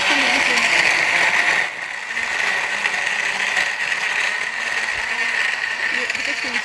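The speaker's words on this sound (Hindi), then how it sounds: "इसको करेंगे अब मज़ेदार सा ब्लेंड जनाब." A blender whirring steadily while blending a minty grape slush, a loud continuous motor drone with a brief dip partway through, voices talking over it.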